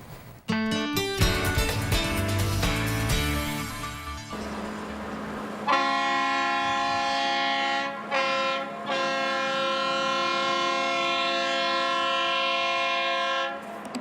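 A Mount Washington Cog Railway train on the steep climb up New Hampshire's tallest peak blasts a series of loud, sustained horn or whistle notes. Between the blasts, the steam train clanks and rumbles with no talking.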